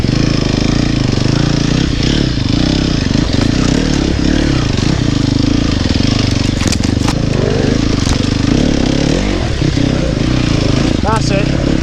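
A dirt bike engine runs steadily and loudly during hard enduro riding on spring trails, with a rough low rumble and occasional clattering knocks, and voices talking over it.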